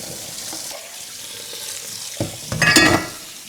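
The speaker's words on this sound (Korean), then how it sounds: "이렇게 해도 찬물 한번 건지고 씻어줄게요. 찬물에 헹굽니다." Freshly boiled noodles are rinsed in cold water in a sink, with a quiet stretch giving way to a short, loud burst of splashing and running water near the end.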